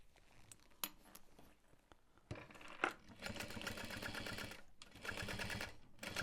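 A sewing machine stitching a backpack runs in close, loud bursts of rapid needle clatter, starting after a few scattered clicks and handling noises, with a short pause between runs.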